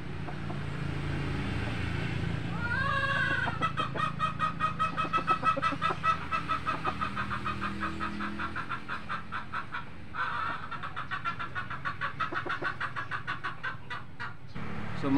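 A molting fighting rooster clucks in repeated rhythmic bursts over a steady background hum, fairly close and prominent, with a louder call near the start.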